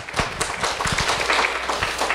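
A church congregation gives a short burst of applause, a quick patter of many hands clapping at moderate distance in a reverberant worship hall, with no talking over it.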